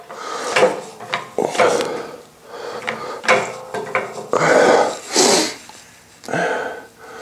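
Repeated thumps, creaks and scraping knocks of a gear being pressed onto an engine shaft, in uneven bursts, close and fairly loud, with brief pauses between efforts.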